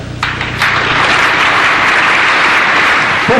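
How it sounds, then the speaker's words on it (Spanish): Loud crowd applause at a tribute marking the 34th anniversary of Peru's 1979 Constitution, a thick continuous roar of clapping that swells after a short opening and holds steady, with a voice faintly underneath. "Fuerte aplauso, compañeros, en el 34 aniversario de la Constitución de 1979"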